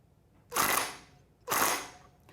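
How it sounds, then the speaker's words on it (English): An air impact wrench tightens the rear sprocket bolts on a Yamaha YZ450F motorcycle, giving two short, loud, hissing rattling bursts about a second apart in a quiet setting. "Just a couple little blasts with a wrench will be good."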